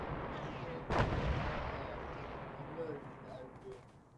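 An incoming artillery volley in a Battle of Long Tan video game: a sudden heavy blast followed by a long rumbling roar that slowly fades, with distant booms underneath.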